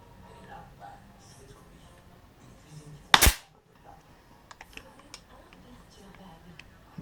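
A Beeman P17 air pistol fires a Gamo Expander pellet with a single sharp, loud crack, followed by faint ticks and clicks, while someone speaks quietly before and after the shot.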